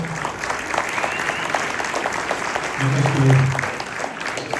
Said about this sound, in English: So how about a round of applause for Steve Holman.